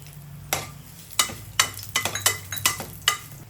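Mustard seeds, dry red chilies and curry leaves hitting about a spoonful of hot oil produce a series of sharp, spattering bursts over a low sizzle, close and irregular, roughly nine in quick succession.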